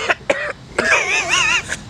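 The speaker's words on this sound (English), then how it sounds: "Gotta get the 10 coughs out." A man coughs sharply twice, then clears his throat in a longer, rough, hacking burst during a casual indoor interview, loud and close with no other talk.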